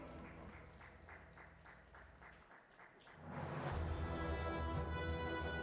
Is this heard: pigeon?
no